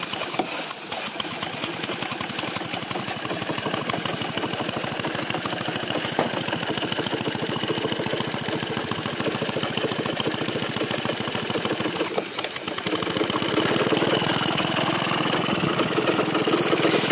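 An experimental compound steam engine built by George Eli Whitney runs steadily on its own, with a fast, even mechanical chatter and a hiss that carry on close and loud throughout, briefly dipping around the middle.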